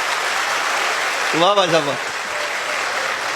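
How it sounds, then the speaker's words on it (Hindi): A live audience claps together loudly in a steady wash of applause while a voice calls out briefly over it. "एक बार इकट्ठे बजाओ सारे ताली, जोरदार"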